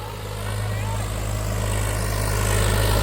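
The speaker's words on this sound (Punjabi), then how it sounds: "ਦੂਜੇ ਮੀਡੀਅਮ ਦੇ ਵਿੱਚ ਟਰੈਕਟਰ ਭੱਜਿਆ ਆ ਰਿਹਾ" A Swaraj 855 tractor running in second gear at full throttle, a loud continuous engine drone with a strong low hum, steady and close for a few seconds.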